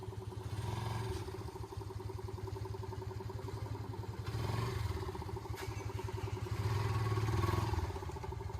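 A motorbike engine ticks over with a steady, even putter at moderate distance, swelling slightly a couple of times as it is turned around to leave.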